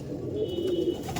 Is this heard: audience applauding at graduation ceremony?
no